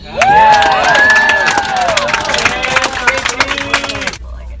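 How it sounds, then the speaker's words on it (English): Audience at a Las Vegas competition cheering and clapping loudly, with whoops and shouts rising over broad applause for several seconds before cutting off abruptly. "can we give a round of applause"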